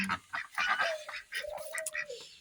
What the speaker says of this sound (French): Il y a maman poule, la poule qui couvait.